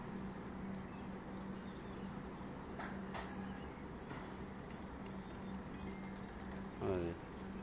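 Pigeons at a Punjab pigeon sports festival in Gujrat are let go, giving faint coos and brief wing flutters over a steady low background, with a voice speaking briefly near the end.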